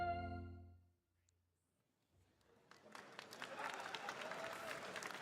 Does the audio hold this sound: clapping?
yes